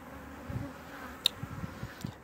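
Bees buzz faintly around a four-gallon tub of cane-sugar feed, a soft, low hum with a few individual insects drifting near and a sharp brief click partway through.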